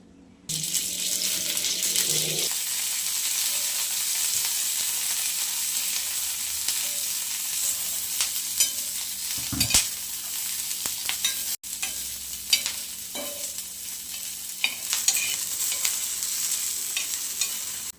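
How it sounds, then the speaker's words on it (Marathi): Broken green chilies roast on a hot tawa with a steady, close sizzle, joined by occasional stirring and scraping sounds as they are moved around. "अशा मोडूनच भाजायच्या मिरच्या"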